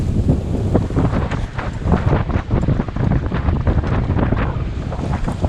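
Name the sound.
wind on a sailing yacht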